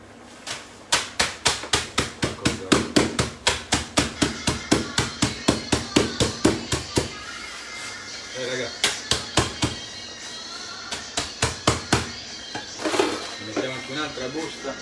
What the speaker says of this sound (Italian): Andiamoci su col martellino.